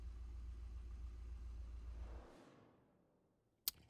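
A Corvette engine in the video game Need for Speed Unbound rumbles steadily at low pitch, then fades away over a couple of seconds, followed by a single sharp click.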